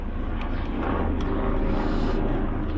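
A helicopter passes overhead during an outdoor install of a rear cargo rack on a Super73 e-bike, its broad rumbling drone steady and fairly loud throughout, with only a faint hint of voice.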